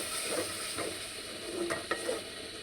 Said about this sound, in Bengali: এদিকে আমি টমেটো ফালিগুলো দিয়ে দিব, এগুলো কষানো হবে